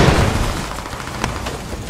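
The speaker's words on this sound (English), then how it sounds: "I'm gonna hit the Bradley" An anti-tank weapon strikes a Bradley armored vehicle in a military video game, heard as a loud, dense roar of blast noise with a sharper crack partway through, under continuous battlefield din.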